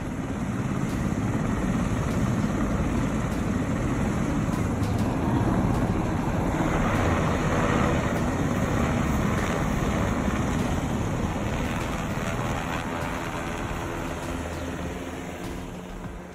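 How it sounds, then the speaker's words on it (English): Black Hawk helicopters fly over Los Angeles in a continuous, loud rotor and engine roar that holds steady throughout, tapering slightly at the end. "Black Hawk helicopters landing in and out of intersections"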